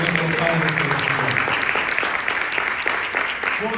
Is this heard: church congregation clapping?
yes